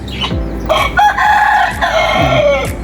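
A rooster crows loudly and close by in one long drawn-out call, with clucking from nearby hens and other fowl around it.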